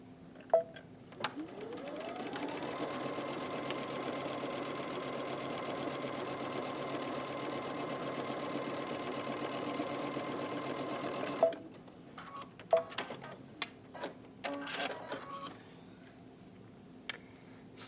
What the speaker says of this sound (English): we're just going to sew right over this piping